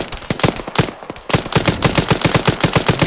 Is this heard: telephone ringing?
no